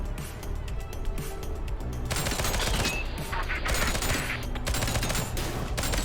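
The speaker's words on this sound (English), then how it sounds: "there's also that mission where we just have to take people out with SMGs, 6 of them" SMG fire rattles in a video game, rapid bursts of automatic shots in quick succession, loud and close, with a dense stretch of continuous fire in the second half.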